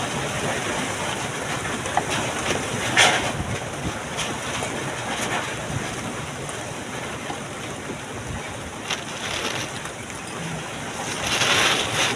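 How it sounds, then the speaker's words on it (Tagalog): Gusty wind roars and buffets the microphone in a steady, rushing noise, with occasional louder gusts and no clear speech. "Grabe kasi hangin guys"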